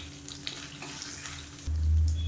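Garlic cloves, ginger and seven dried red chillies sizzle steadily in hot oil in a pan for an egg gravy, a close continuous crackle with a deeper rumbling surge toward the end.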